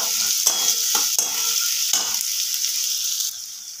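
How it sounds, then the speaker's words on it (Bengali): Whole small cardamom pods, cloves and cinnamon sticks splutter in hot oil, a close, loud sizzle broken by several sharp crackling pops and stirring scrapes before settling into a steady hiss. "3টে ছোট এলাচ আর 2টো লবঙ্গ, 2টো দারচিনি দিয়ে দিলাম। এটা কিন্তু ফাটিয়ে দিলাম"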